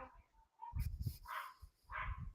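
A dog barking in a room: several loud, close barks in uneven bursts with short pauses, largely on its own with no talk.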